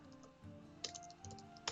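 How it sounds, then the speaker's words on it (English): Someone types a chat message on a computer keyboard: light, quiet key clicks in a few short bursts, with brief pauses between them and soft background hum underneath. "But you can also type messages down here"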